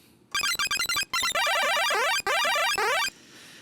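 Synthesizer with the release turned up: rapid chirpy electronic blips that smear into dense, overlapping sweeping tones and squeaks, loud and busy with brief gaps, no voice.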